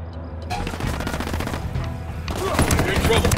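Automatic gunfire fills a firefight in Ghost Recon Wildlands, with dense rapid bursts rattling continuously and growing heavier toward the end, loud and close, with a voice briefly heard.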